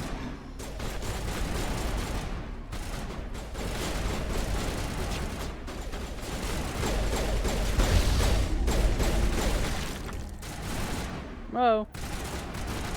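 Dense gunfire in a Mass Effect Legendary firefight, with rapid bursts and shots crackling steadily at close range throughout, a voice briefly exclaiming and a short electronic warble near the end.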